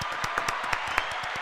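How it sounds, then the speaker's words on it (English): Applause from a small audience greeting volleyball players on a campus show, a brief burst of dense clapping with distinct individual claps, steady and fairly close. "So let's give them a round of applause."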